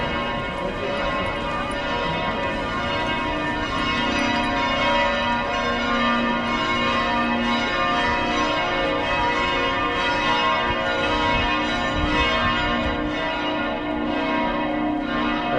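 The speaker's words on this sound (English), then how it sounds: "That's the bell tower of Stephenstone." Church bells of St. Stephen's Cathedral bell tower in Vienna peal continuously, overlapping ringing strokes blending into a dense, loud wash of tones that carries on without pause and without talk.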